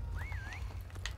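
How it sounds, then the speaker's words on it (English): A short whistle in the Call of Duty Modern Warfare Remastered Prop Hunt game, a single rising-and-falling tone about half a second long, faint over steady background game noise. "I heard a whistle by our spawn."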